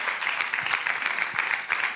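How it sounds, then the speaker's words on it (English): A church congregation applauds during an evening service, a brief, steady patter of many hands clapping at moderate volume without talk over it. "Come on, y'all, clap your hand."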